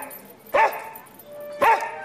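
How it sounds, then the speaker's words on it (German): A dog gives two loud, sharp barks about a second apart, indoors in a German comedy scene, with quiet background between them. "Was hat denn der Hund?"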